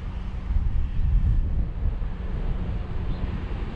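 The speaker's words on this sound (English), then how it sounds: "All right, I am directly in the wind right now." Wind buffets a GoPro outdoors on a cold, gusty day, a continuous low rumbling roar that swells and eases slightly, close and fairly loud, with no one speaking.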